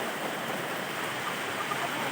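Steady rain hisses evenly without pause, a dense wash of falling water heard close by.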